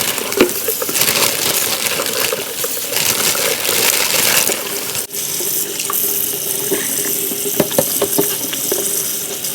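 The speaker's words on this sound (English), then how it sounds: "let me start washing my greens off right" Water from a kitchen tap runs loudly into a sink as collard greens are rinsed beneath it, with a steady close rush, a brief dip midway and soft splashes and handling sounds.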